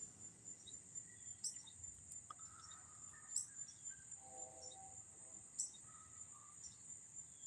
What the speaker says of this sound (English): there was one cicada hollering